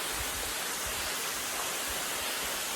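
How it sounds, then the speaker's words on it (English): A waterfall in the Gippsland bush roars as a steady, dense, broadband rush, loud and continuous throughout, with no voices. "Hello, waterfall."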